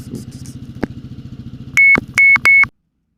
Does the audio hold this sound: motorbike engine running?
yes